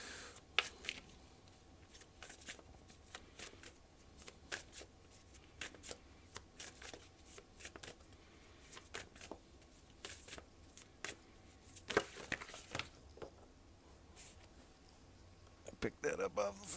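Tarot cards are shuffled in many quick, crisp riffles and slaps, close and fairly quiet, with pauses between bursts and a voice speaking throughout.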